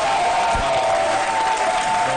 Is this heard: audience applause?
yes